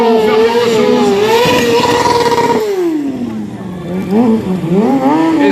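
Stunt motorcycle engine revving loudly and continuously near the microphone, its pitch holding steady, dipping, then climbing again in wavering surges over several seconds.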